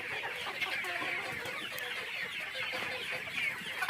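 Local chickens at a poultry farm cluck steadily in a dense, close chorus of overlapping calls that runs the whole time without pause.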